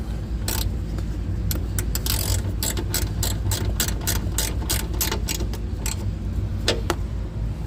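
A hand ratchet tightens a screw and nut under a car during a warning-light diagnosis, giving quick, close clicking bursts in an uneven rhythm over a steady low background hum.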